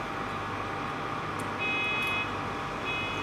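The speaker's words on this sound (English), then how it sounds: "We can hear the alarm now running and the lights are turning on." Alarm of a UVC sterilization system sounding as its lamps switch on, a steady tonal electronic tone entering partway through over a constant machine hum.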